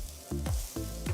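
Pav bhaji masala powder sizzles loudly in a hot pan while being sautéed for a street-food evening snack, with steady frying hiss broken by a few spatula stirring strokes.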